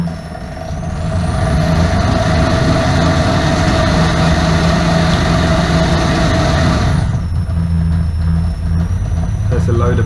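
An alternator converted into a motor runs under a load test, driving a PWM-controlled load motor. It gives a loud, steady mechanical hum and whine that holds for most of the clip, then shifts in tone near the end.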